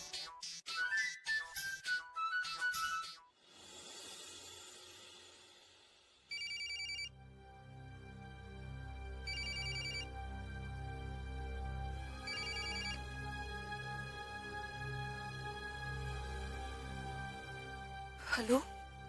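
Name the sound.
telephone ringing during outgoing call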